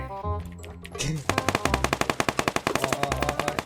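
Rapid automatic gunfire in PUBG Lite, a fast, evenly spaced string of loud shots following brief scattered sounds, close and punchy, with voices faintly under the opening.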